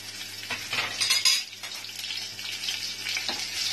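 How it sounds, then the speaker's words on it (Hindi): Whole spices (cloves, green and black cardamom, cinnamon) crackle and sizzle in hot oil in a pan, a steady close frying hiss with small pops and a brief louder flurry early on, no talk. "लौंग, इलायची, बड़ी इलायची, छोटी इलायची और दालचीनी डाल दूंगी। थोड़ा सा क्रैकल होने दूंगी"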